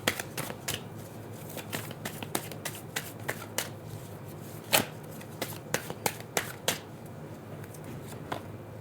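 Tarot cards being shuffled by hand, a steady run of crisp riffling snaps and flicks with one louder slap near the middle, close and fairly quiet with no talking.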